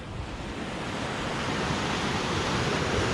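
A river in Sonmarg, Kashmir rushes steadily at a campsite, a loud, continuous broadband wash of flowing water with no breaks and no voices.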